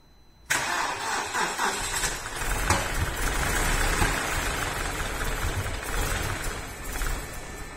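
A BMW E46 316ti with the N42 engine, just after a head gasket repair, cranks and fires up abruptly, then settles into a loud, steady idle that holds close by without any talk.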